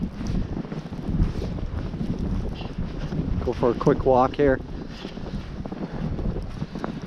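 Strong gusting wind from an April 2022 blizzard roars steadily across an outdoor microphone beside snow-drifted houses, loud and continuous, with someone talking over it throughout.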